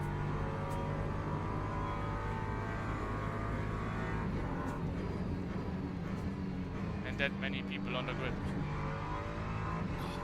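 Several LMP3 race cars in Le Mans Ultimate at Paul Ricard drone steadily with a loud, continuous engine hum throughout, while someone talks over it.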